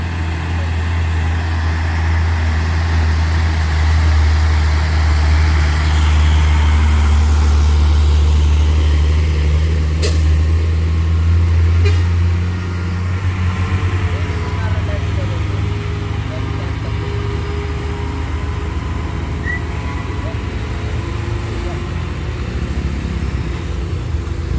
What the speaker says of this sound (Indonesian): Truk trailer ya bosku, konvoy.